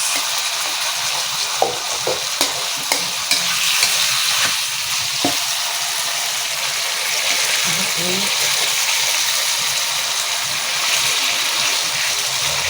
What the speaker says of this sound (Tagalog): medyo durugin na natin yung kamatis